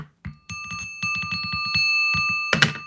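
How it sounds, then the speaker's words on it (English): A small singing bell is struck in quick repeated taps, each a bright metallic ping with sustained ringing overtones that build into a steady shimmering tone, close and clear, ending in a louder clattering strike. "Y'all got me ringing the singing bell like a mad person."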